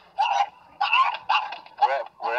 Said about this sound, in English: I don't think this dog likes PetSmart.